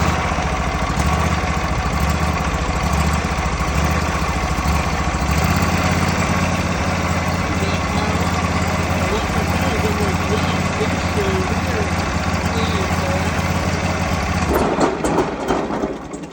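A small riding lawn mower engine, choked and restarted, runs at a steady idle with a loud, continuous low hum throughout, sputtering near the end, while a voice talks over it.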